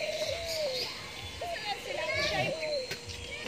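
A ringneck dove coos in soft, repeated rolling notes while children chatter and play nearby.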